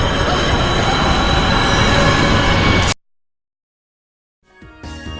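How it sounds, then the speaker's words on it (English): A New York C subway train in the 2003 film Daredevil roars loudly through a tunnel, a dense rumbling rush that cuts off abruptly into silence before another burst of noise returns. "That's the C train!"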